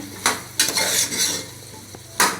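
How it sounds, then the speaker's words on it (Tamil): A spoon stirs drained plantain and eggplant pieces frying in oil for bisibelabath sambar. The oil sizzles steadily while the spoon scrapes and knocks against the pan a few times. "நல்லா கிளறி விடுங்க"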